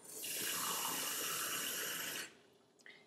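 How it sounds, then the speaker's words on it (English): Warm or cool water runs steadily from a tap into a denture cup for about two seconds, a loud close hiss that stops abruptly, followed by faint drips and a small clink. "you would fill the denture cup with warm or cool water."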